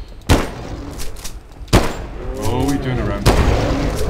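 Three sharp gunshot blasts ring out about one and a half seconds apart in a Bigfoot hunting video game, loud and booming with a short rumbling tail, while a player briefly speaks.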